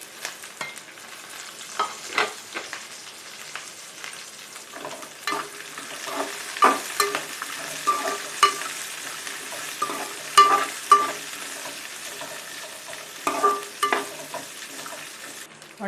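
Eggplant pieces fry and sizzle in a pan, a steady crackle running throughout with intermittent stirring scrapes and soft utensil clicks, fairly close and alone.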